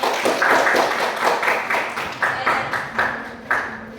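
Audience clapping at a classroom group presentation, a run of separate, fairly close hand claps in a loose uneven rhythm, about a dozen distinct hits, with no talk over them.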